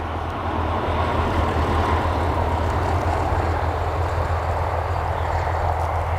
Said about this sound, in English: There we go, incoming aircraft.